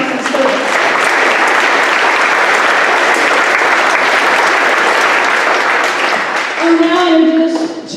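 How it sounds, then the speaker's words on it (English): Applause from an audience at a high school Veterans Day assembly, a steady dense wash of clapping that holds for several seconds, then a voice briefly speaks near the end as the clapping tapers. "Let us give Mrs. Thompson a round of applause for Tanner Thompson's service."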